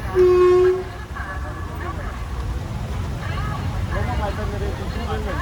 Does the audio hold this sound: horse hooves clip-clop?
no